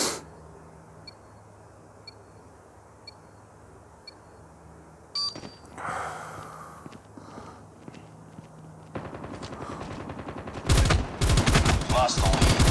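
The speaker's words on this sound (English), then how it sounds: "we got a sniper over there, which is going to make things a little more difficult" Sniper and other gunfire in a first-person shooter video game, with sharp shots and bursts of automatic fire building in intensity, mixed with beeps, footsteps and game noise, fairly loud and close.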